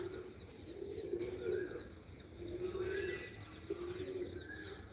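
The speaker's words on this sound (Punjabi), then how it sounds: "ਬਾਈ ਤਿੰਨ ਕਬੂਤਰ ਛੱਡੇ ਆਪਾਂ ਤਿੰਨ ਕਬੂਤਰੀਆਂ ਛੱਡੀਆਂ" Pigeons on a pigeon club rooftop during a pigeon-flying tournament match, with steady cooing and a few chirps close by over a continuous background murmur.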